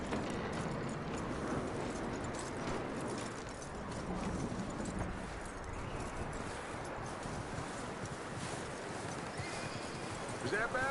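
Horse hooves clop steadily in the video game Red Dead Redemption 2 over a dense, noisy background, with occasional neighing and snorting mixed in.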